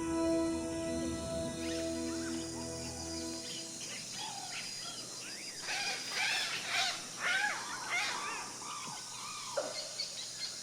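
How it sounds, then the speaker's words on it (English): Guianan cock-of-the-rock and other birds call from small, humid islands of trees in a Guyana forest: scattered squawks, chirps and short whistled notes over a steady insect hum, with the calls coming closer and busier partway through. "Here, in these small, humid islands of trees, lives the spectacular Guyanan cock of the rock."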